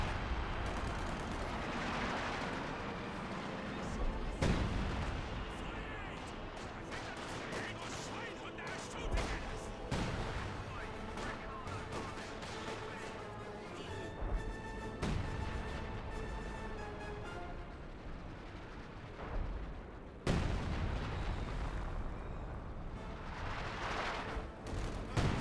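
An artillery barrage in Company of Heroes 2, with repeated booming blasts and gunfire at intervals over a long stretch of battle noise, while a commentator speaks.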